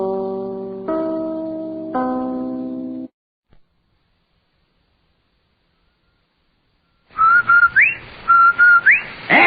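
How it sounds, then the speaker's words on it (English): The Rinso White whistle from an old radio advertisement: a clear whistled tune of steady held notes, then a pause of silence, then a second run of sliding whistled phrases, loud and alone. "That's the Rinso White whistle."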